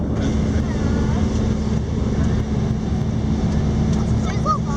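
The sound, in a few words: small plane engine in flight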